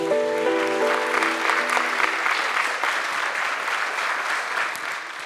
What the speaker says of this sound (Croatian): dajmo malo podrške i pljeska